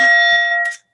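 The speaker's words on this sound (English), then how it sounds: "That's the tolling of the bell." A single tolling bell rings out with a sustained, steady metallic tone that holds for most of a second and then cuts off, loud and close with nothing else heard.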